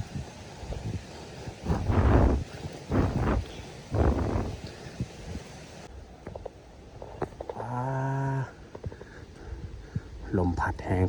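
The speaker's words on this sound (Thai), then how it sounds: "ลมพัดแห้งขนาดทุกคนเลยอันตรายสุดๆ" Strong gusty wind buffets the microphone in loud surges while a person talks over it.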